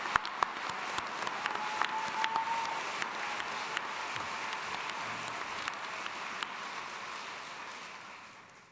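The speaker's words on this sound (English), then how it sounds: "can I ask you to give them one more round of applause?" A large commencement audience at a College of Arts and Sciences ceremony gives another round of applause, a dense, continuous clapping roar with scattered sharper claps, fading away at the end.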